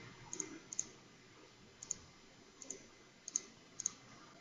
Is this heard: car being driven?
no